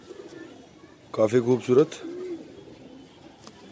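A broad-winged Punjabi Malwai pigeon gives a short, close burst of throaty cooing, and someone speaks briefly around it.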